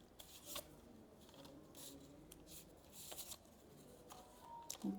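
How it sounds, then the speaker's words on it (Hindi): Tarot cards are shuffled and drawn from a deck. Soft, papery riffles and slides come in short bursts, faint and close, with small taps between them. "कैप्रिकॉर्न की थोड़े से और कार्ड्स निकाल लेते हैं।"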